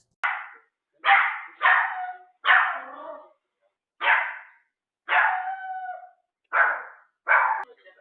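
Distressed dog with separation anxiety and isolation distress barking repeatedly, about eight loud, close barks in uneven bursts with short pauses between them, no voices present.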